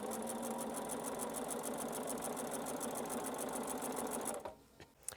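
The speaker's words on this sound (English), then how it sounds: "I have my needle down, and then I'm going to slide that fabric right in that corner." Sewing machine stitching fabric for a fabric tube, a fast steady mechanical whir of needle strokes running close and continuous for about four seconds before stopping abruptly into quiet.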